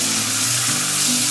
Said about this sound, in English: And then add the garlic and onion paste.